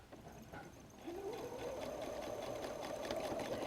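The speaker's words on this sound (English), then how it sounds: "I have the bag in the machine with the flap pinned on, and now I'm going to baste across that stitching line right there" A sewing machine bastes across the half-inch stitching line of a pinned messenger bag flap at a 2.5 stitch length, starting after a second of quiet and then running as a steady, close, continuous whir.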